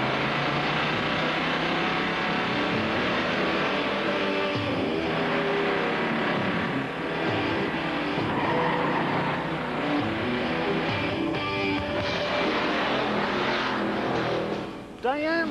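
Race cars roaring off together as the flag drops, a dense, loud, sustained engine howl with rising revs that fills the whole stretch, with voices faintly mixed in.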